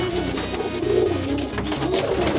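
A domestic pigeon coos close up during vaccination, giving a steady, throaty rolling coo throughout the short moment.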